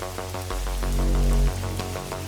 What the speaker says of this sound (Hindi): कितनी तेज बारिश!